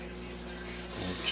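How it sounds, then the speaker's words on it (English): Light hand sanding with 320 grit sandpaper to smooth alligatored finish on a Philco 39-30 radio cabinet, a steady close rasping rub throughout with no talk. "I'm just lightly sanding to get the worst of the alligatoring out."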